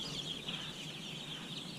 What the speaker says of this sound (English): third batch of 500 Cornish Cross chickens.